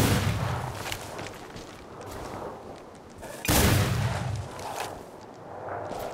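Heavy booming shots ring out in Flintlock: The Siege of Dawn, two big reports about three seconds apart, each followed by a long rumbling decay, fairly loud with no talking.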